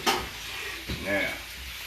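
Onions sizzle and fry in a pan as they are stirred, a close, crackling hiss with a scrape at the start and a voice murmuring briefly underneath.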